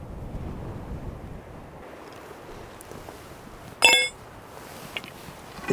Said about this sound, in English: Find a better place out of the wind for today and tonight. It's supposed to be pretty blustery